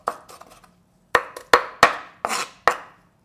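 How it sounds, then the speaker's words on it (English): Knife chopping kimchi into small pieces on a cutting board: a few soft taps, then a series of sharp, firm chops at an uneven rhythm, close and loud. "Chop really small pieces."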